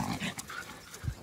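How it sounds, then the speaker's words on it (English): Dogs near a lawn being top-dressed with topsoil make short panting breaths and a low growl, close by and brief, with no talking. "Crazy dogs."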